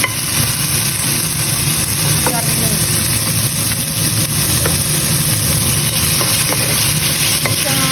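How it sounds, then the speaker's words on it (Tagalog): Ingredients for Taiwanese-style rice noodles fry in hot cooking oil, producing a dense, steady sizzle with occasional stirring scrapes, close and continuous for the whole stretch. "Ayan, mainit na yung mantika. Lagay na natin ito."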